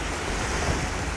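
Ocean surf and wind at the Maldives make a steady broadband wash, a continuous close roar of waves with wind buffeting the microphone and no voices.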